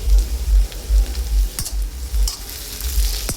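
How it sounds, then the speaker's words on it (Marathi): Okra sabzi (bhindi bhaji) sizzles in a pan while a spoon stirs it, giving soft scraping strokes and a few sharper clinks over a constant close frying hiss, with no talk. "मधून असे हलवत राहायची भाजीला।"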